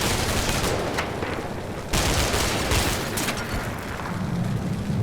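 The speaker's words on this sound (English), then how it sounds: "That's a hell of a firefight." Combat Mission: Cold War firefight with dense, rapid gunfire and machine-gun bursts layered over rumbling blasts, a sharp loud volley near the two-second mark, continuous and chaotic without speech.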